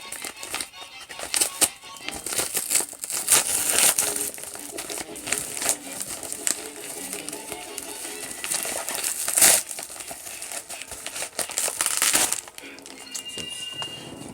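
Packaging around a vintage Friday the 13th toy crinkles and crackles continuously up close as it is pulled open, with dense plastic rustling and a few sharper snaps throughout.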